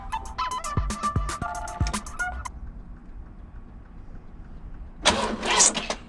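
A diesel engine is started up, with whirring mechanical tones and knocks followed by a loud, rough burst as it catches, heard up close.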